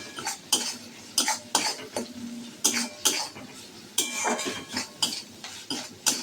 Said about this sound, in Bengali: এবার একটু মশলাটা নাড়াচাড়া করবো